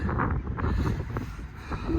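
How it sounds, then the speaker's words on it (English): Gusty wind on the salt flats near Carlin, Nevada, buffeting the microphone with a steady low roar, loud and close throughout, no voices. "So it is freaking windy out here."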